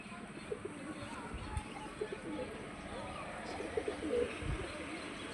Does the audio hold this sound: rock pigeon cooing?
yes